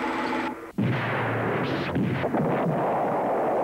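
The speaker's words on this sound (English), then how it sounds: "We'll try a shot across their bow." A sci-fi pulsar cannon fires a warning shot across a ship's bow: after a brief tonal lead-in, one sudden booming blast erupts and rolls on as a loud, sustained roar.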